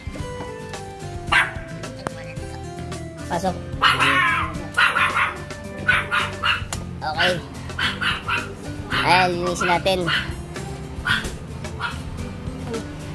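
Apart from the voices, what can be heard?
small dog barking and whimpering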